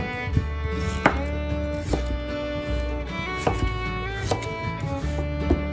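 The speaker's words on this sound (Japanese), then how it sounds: "じゃがいもは皮を剥いて乱切りにします。" Peeled potatoes chopped into rough chunks with a knife on a cutting board, a steady run of close, crisp knocks against the board.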